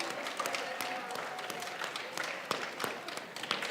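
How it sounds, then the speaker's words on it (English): Students and parents in a high school hall at a freshman academic awards assembly applaud, a dense steady patter of many hands clapping with a few sharper claps standing out, moderately loud and continuous throughout. "A big round of applause."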